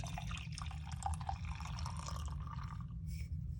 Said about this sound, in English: So what I do to aerate is I just pour back and forth carefully